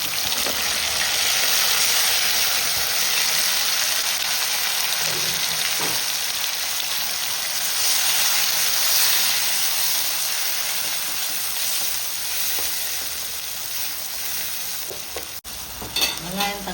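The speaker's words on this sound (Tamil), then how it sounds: "தக்காளி பூண்டுலாம் நல்லா வதங்கிடுது" Tomatoes and garlic sauté in a pan with a loud, steady sizzle and crackle, plus occasional stirring scrapes, continuing unbroken throughout.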